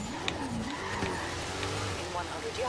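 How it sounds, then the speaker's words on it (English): A hydrogen fuel cell car in the racing game Forza Horizon 3 drones with a deep, throaty engine note and brief tire squeals, while someone talks over it throughout. "Supposedly has a hydrogen fuel cell engine, but it sounds like a V8 twin turbo."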